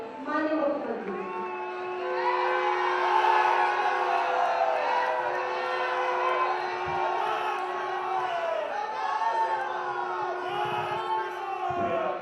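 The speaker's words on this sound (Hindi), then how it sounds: "सभी को बहुत जोरदार तालियों से माननीय मुख्यमंत्री जी का अभिवादन करें" A crowd at a public gathering in Prayagraj welcomes the Chief Minister with loud cheering and shouting that swells and stays sustained, with a sharp announcement-like tone running through it.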